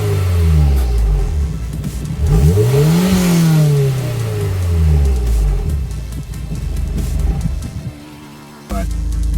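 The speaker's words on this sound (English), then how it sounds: "I'll give you some outside revs here in a second" A 2001 Honda S2000 with an Apex'i World Sport catback exhaust revving from outside the car, the engine climbing and falling through several loud, close rev sweeps before it drops to a brief lull and returns.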